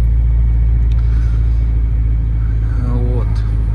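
A car's engine drones steadily up close with a heavy low rumble inside the cabin, and road noise runs throughout while a brief tonal sweep rises near the end.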